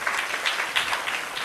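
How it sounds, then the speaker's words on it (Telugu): A church congregation breaks into brisk clapping during a sermon, a dense, steady patter of many hands with slightly rhythmic surges across a short burst. "చప్పట్లు కొట్టి దేవుని స్తుతించు."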